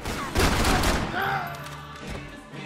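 Rapid gunfire bursts from the video game Max Payne 3, a dense, loud fusillade of overlapping shots that fades into quieter scattered firing and faint background sound.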